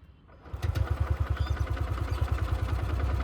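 A Freedom CNG motorcycle engine runs roughly close by, sputtering in a steady, rapid chugging pulse and never revving up, loud and alone after a quieter start.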